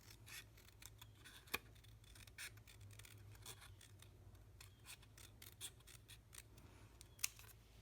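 Small snips cutting along a marked line in paper, a series of faint crisp snipping clicks at irregular intervals over a soft rustle, quiet and close, with no voices.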